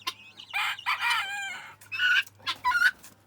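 A sick young rooster in an aviary gives a series of loud, close crowing and clucking calls in several bursts, separated by short pauses, with no speech over them.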